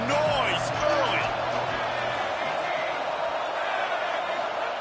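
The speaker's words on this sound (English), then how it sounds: "This crowd bringing the energy and noise early." A football stadium crowd early in the game, a steady, dense roar of many voices cheering and shouting throughout, with a few louder whoops near the start.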